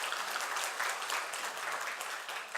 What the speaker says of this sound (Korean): 우리 박수로 한번 축하해 주시길 바랍니다